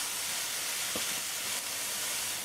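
Pimento peppers, celery leaf and stalk, scallion and carrots sizzling in a pot for Trinidadian vegetable rice, a steady bright hiss of frying that holds evenly throughout.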